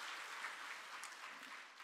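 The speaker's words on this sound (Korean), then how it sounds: "크게 격려의 박수 부탁드리겠습니다" Church congregation at an early-morning special prayer service gives a faint, steady round of applause, distant and even, with no talk over it.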